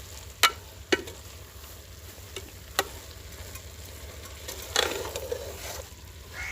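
Grated coconut stirred into carrot halwa in a pan, with a few sharp scraping knocks of a spoon against the pan over a low steady background hum, alone without talk.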